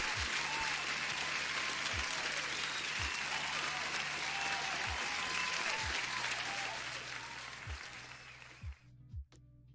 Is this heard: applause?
yes